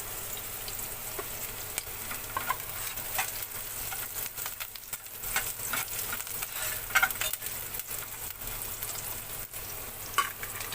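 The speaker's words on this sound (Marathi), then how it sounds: "त्याच्यामध्येच कढीपत्ता टाकायचा थोडा." Curry leaves tossed into onions browning in a pan for a spicy jackfruit-seed vegetable dish, giving a steady, close sizzling and crackling with a few sharper spits and stirring scrapes, no talk.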